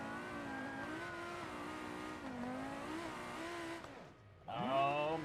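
A car engine runs steadily in BeamNG.drive, a loud tonal hum with shifting pitch, then cuts out briefly before revving back up sharply near the end; no one speaks over it.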